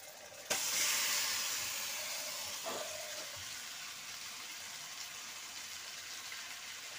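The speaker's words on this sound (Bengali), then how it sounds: "দেখো মাংসটা আমি ঢেলে দিচ্ছি।" Mutton hits a hot pan of fried onion and garlic with a sudden loud sizzle, the hiss of frying steady and slowly fading, with a few utensil clinks in the pan along the way.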